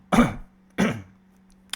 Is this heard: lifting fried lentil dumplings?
no